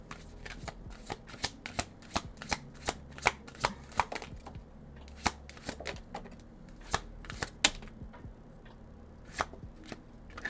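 A tarot deck being shuffled repeatedly, a quick series of crisp riffles and taps in an uneven rhythm, close and fairly quiet, with no talking.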